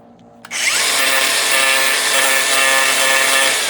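Handheld power tool grinding plastic while a magnetic GoPro mount is being made, starting abruptly after a brief quiet moment and then holding a steady, loud, high-pitched whine without voices.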